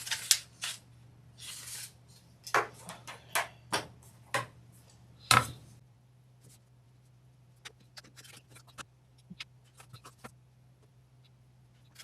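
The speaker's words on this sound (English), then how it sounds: "now I am going to cut these to the appropriate size." Quilt fabric strips are cut to size, giving a series of sharp, quiet close snips and clicks in an irregular rhythm over a steady low hum, with the cuts thinning out toward the end.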